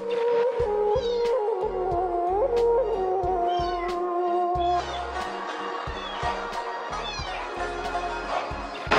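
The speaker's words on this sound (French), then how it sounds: "Un petit chat est tombé dans un puits plein de boue et a commencé à appeler au secours" A kitten stuck in a mud-filled well meows repeatedly in high, plaintive cries, fairly loud and close, with a steady background hum and no talking.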